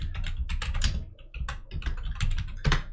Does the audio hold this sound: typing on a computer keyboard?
yes